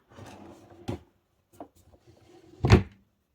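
A bottom drawer in a craft room storage unit, holding lace and string, slides with a soft wooden rubbing and closes with a couple of short knocks and one louder thud near the end.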